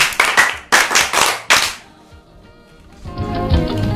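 A church congregation clapping loudly in a burst of strong rhythmic beats that stops abruptly, leaving a quiet room before a low murmur of voices rises.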